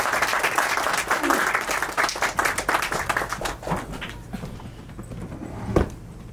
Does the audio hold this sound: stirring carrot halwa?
no